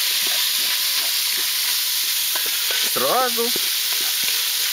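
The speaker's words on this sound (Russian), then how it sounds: "покуда у нас поджаривается сало" Pork fat (salo) sizzles and crackles in a frying pan, a dense constant hiss close up, with a brief spoken word partway through.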